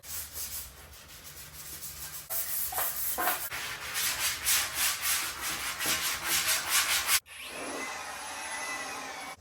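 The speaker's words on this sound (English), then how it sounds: "I'm going to wipe them down and sand them and get them ready for paint" Ford Bronco Baja bull bar bumper being sanded before paint, a steady rasping scrub that pulses with each stroke, loud and close, with a brief break near the end before a smoother, lighter rubbing resumes.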